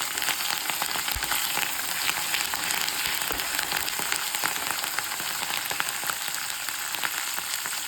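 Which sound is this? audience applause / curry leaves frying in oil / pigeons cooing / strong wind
curry leaves frying in oil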